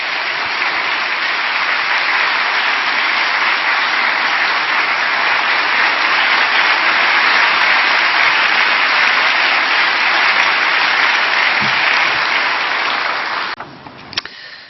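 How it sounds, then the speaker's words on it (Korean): A church congregation at a dawn prayer meeting applauds to welcome a speaker, a thick, even wash of clapping held loud for most of the stretch before it drops away abruptly near the end. "우리 큰 박수로 우리가 환영하면서"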